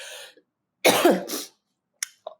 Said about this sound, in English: so I don't have to cough so much